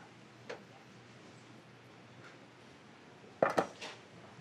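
Steamed mussels being ladled out of a pot, a few sharp metallic clinks and shell clatters near the end, with one earlier light knock over a quiet kitchen background.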